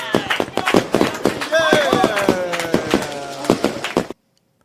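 Rapid bursts of firework pops and crackles sound as a stream of sharp repeated bangs with a rising whistle in the middle, loud and close, then cut off abruptly.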